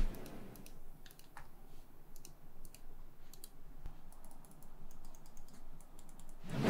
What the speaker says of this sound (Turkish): Anahtarlar hareket halindeyken bile harika olan sağlam bir tıklamayla sonuçlanıyor.